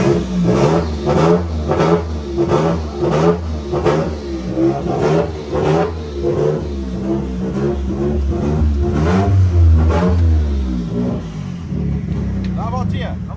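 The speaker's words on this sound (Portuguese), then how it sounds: "Dá uma acelerada, hein?" A car engine is revved hard again and again in a steady rhythm of loud, close bursts, each climbing and falling back, with voices nearby before the engine settles to idle at the end.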